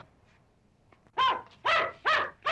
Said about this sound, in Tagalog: Ay, ay, yung aso! Oh, yung poodle!